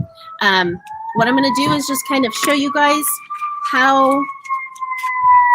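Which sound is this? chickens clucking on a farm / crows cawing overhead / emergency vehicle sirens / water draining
emergency vehicle sirens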